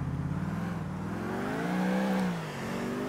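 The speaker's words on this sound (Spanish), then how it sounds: "llevo el coche de patrulla" Police patrol car in Grand Theft Auto IV, a steady engine drone with a brief rising rev that dips again, close and alone without talk.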